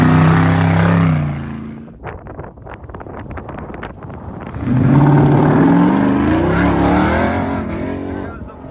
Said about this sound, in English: Here comes the Ori Struts Racing Jeep, another one of the diverse vehicles here.